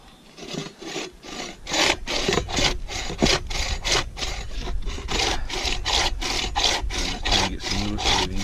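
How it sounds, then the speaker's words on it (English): Cedar fatwood is shaved into fine shavings with a blade, giving a steady run of close, dry rasping strokes in a regular rhythm, each scrape distinct and fairly loud with no talking. "I'm just trying to get some little shavings here."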